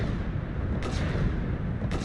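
Weapon fire in the video game Risk of Rain 2 rumbles steadily, with two sharper shot bursts standing out near the middle and at the end of the short stretch.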